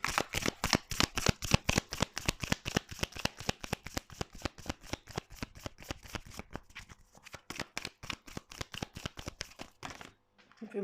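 A deck of tarot cards is shuffled close up in rapid riffling bursts, a dense train of sharp flicks that thins out toward the end before a brief pause and a final rustle.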